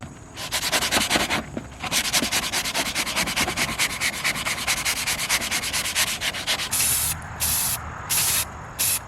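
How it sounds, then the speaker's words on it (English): A sanding bar is rubbed back and forth over a thrifted wooden shelf in quick, rhythmic scraping strokes that sound close and gritty, then gives way to a few short bursts of spray near the end. "I'm going to take my sanding bar and I'm going to sand it down"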